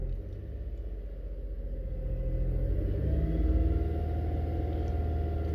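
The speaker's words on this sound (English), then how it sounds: "So let's just raise the revs slightly" A car engine with a misfire fault rises from a rough idle to just under 2,500 rpm, a close, steady low rumble that grows gradually louder.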